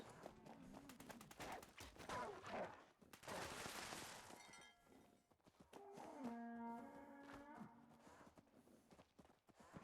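Cows lowing in the video game Fallout 76: several drawn-out, tonal moos in the latter half, over busy game noise with clip-clop-like footsteps and gunfire-like bursts earlier.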